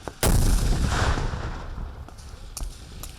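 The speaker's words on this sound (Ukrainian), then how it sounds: "це імітація артобстрілу" A sharp, loud blast of simulated artillery fire during a military exercise, followed by a long rumbling roll, then a few fainter distant booms.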